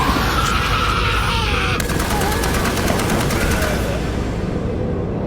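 Rapid automatic gunfire in a video game firefight, dense bursts and continuous rattling shots filling the whole stretch, loud and close, with a sharper layer of fire joining partway through.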